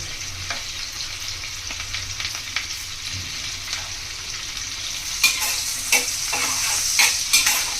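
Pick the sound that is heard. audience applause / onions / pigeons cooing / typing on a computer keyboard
onions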